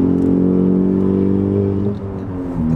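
A 2018 Honda Civic Si with an aftermarket rear motor mount hums loudly from the cabin while driving, its steady engine tone dipping briefly before settling again over road noise.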